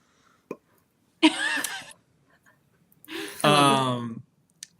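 A voice imitates the soft Tupperware-style burp of a lid opening on a round wooden box, making a short click followed by two breathy, throaty bursts, the second longer and voiced.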